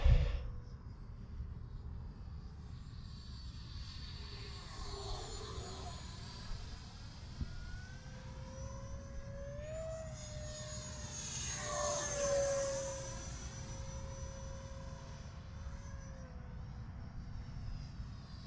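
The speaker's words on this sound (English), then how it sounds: "I love this EDF jet." An Arrows RC Viper 50mm EDF model jet flies past with a sustained high-pitched ducted-fan whine that rises and falls with Doppler shifts as it banks and swoops, steady and moderately loud, with faint wind noise.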